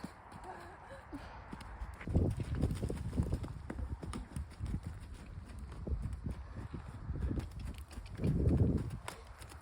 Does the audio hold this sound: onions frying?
no